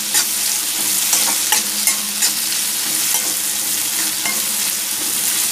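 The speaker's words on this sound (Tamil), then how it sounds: "நல்ல எண்ணெயில நல்ல வணக்கி விடுங்க பெரிய வெங்காயம் பூண்டு கருவேப்பிலை எல்லாமே போட்டு நல்ல வணக்கி விடணும்" Bitter gourd, onion, garlic and curry leaves sauté in oil for a bitter gourd tamarind curry, making a loud continuous sizzle broken by repeated scraping stirs of a spoon against the pan, with no talking.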